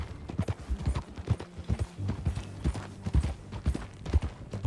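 Horse hooves clip-clop in the video game Red Dead Redemption 2 as a rider moves at an easy pace, giving a steady, moderately close rhythm of soft thuds with faint background ambience.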